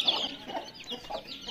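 A hen clucks softly in short, repeated bursts, fairly faint and close by, with no talking.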